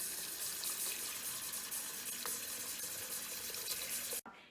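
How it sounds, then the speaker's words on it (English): Green pole beans are washed in cold water with ice, with a continuous soft gush of running water throughout and a brief dip near the end. "I put them in cold water and I put ice in it just to let all the dirt and bugs off of the green beans."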